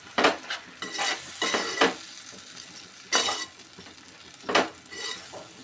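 A spoon stirs tomato puree into an egg tomato curry in a metal pan, producing repeated scraping clanks in uneven bursts with soft sizzling between, close and fairly clear.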